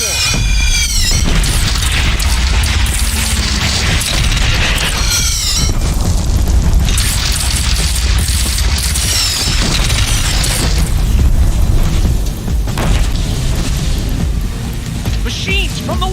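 In the video game Horizon Zero Dawn, a cannon fires on a platform amid repeated heavy booms and explosions, loud and dense over a continuous roaring battle backdrop, with a voice briefly speaking.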